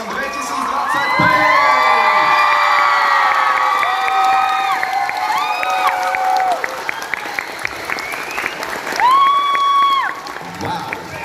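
Loud audience applause mixed with high shouts, whoops and cheering at a cosplay catwalk during a comics convention, dense and sustained, easing briefly before another burst of screams near the end.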